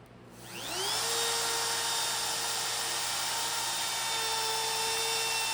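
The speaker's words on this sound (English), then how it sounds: "then route the outsides using a chamfer bit" A router fitted with a chamfer bit spins up quickly to a steady high-pitched whine and keeps running while it cuts along the edges of an end-grain wooden cutting board.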